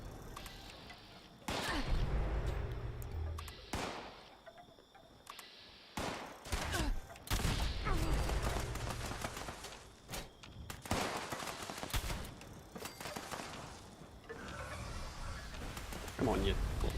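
Gunfire in the video game Fallout 76 aimed at the player, a run of rapid sharp shots and bursts coming in clusters across the clip, with a person talking between and over them.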